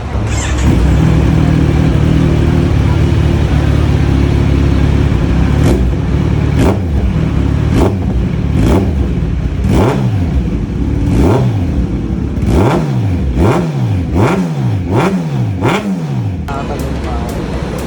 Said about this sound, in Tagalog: So, sound check natin tong shorty sa C1000 naka-full system.